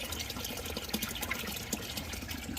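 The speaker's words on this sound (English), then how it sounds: "Right now we're running hose water through one of the lines that we installed." Hose water runs through an installed drain line into a gravel perforated sump chamber, a steady close rushing and splashing flow that continues without pause and without talk.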